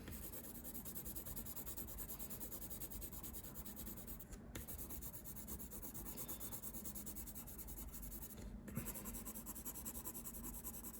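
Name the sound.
pencil shading on paper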